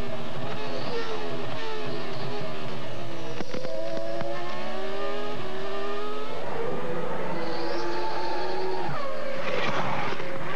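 Formula 1 cars at the 2002 Canadian Grand Prix qualifying rev their engines near 15,000 rpm, a loud, sustained high-pitched whine with rising and falling tones as they pass and accelerate.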